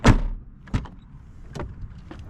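Doors of a 1989 Mercedes-Benz 420SEL shutting, a solid close thump followed by a few softer latch clunks spaced across a couple of seconds, near and moderately quiet.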